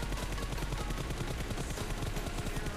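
Rapid continuous gunfire from a shooting video game while switching targets: dense, loud, unbroken automatic fire with no pauses for its whole length.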